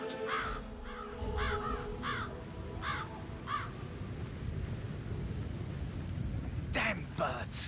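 Crows cawing in the video game Hitman 3, a run of harsh repeated caws in the first few seconds over a low rainy ambience, then a sharp burst near the end; faint.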